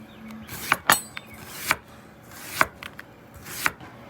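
A kitchen knife slices onions thin on a board, giving about six crisp, separate chops at an uneven pace, close and fairly loud against a quiet room.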